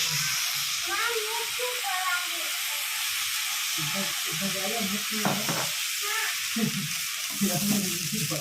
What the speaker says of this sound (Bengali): ফ্রাই করার সময় সোয়া সসটা দিতে হচ্ছে